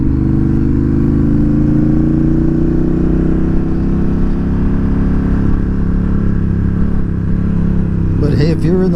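A Honda Rebel 1100 DCT motorcycle cruising with a steady, loud, low engine drone that rises slowly in pitch as it accelerates, with a voice talking over it near the end.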